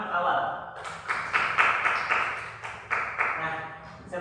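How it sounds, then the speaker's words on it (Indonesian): A tenth-grade class claps in unison at the start of a lesson: a steady run of patterned, rhythmic claps, fairly close, lasting a few seconds. "Tepuk tangan untuk awal."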